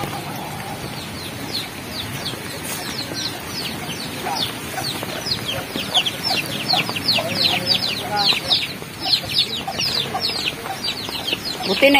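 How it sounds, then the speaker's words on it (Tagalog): Farm chickens on a rural Philippine smallholding cluck and squawk in a dense, busy chorus after a typhoon, with outdoor background noise and a voice talking faintly now and then. "Yung mga alaga ng Uncle mong manok,"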